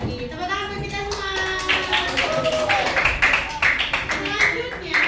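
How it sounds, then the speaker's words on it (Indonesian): Classroom applause at an elementary school, many hands clapping in a dense, rapid patter that builds and carries on steadily, close and fairly loud, with children's voices mixed in underneath. "Tepuk tangan untuk kita semua"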